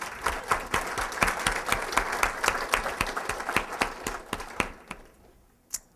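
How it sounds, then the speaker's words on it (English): A crowd applauds steadily with dense, overlapping claps that swell, then taper off, ending with a few scattered final claps. "You can clap."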